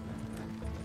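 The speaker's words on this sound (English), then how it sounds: "You'll burn out the horses." Horse hooves clip-clopping in Red Dead Redemption 2, a steady, muffled patter of hoofbeats under a low rumble, brief and fairly quiet.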